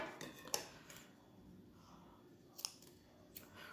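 Scissors snipping crochet yarn, a few faint, sharp clicking cuts spaced out over a few seconds, close up and quiet.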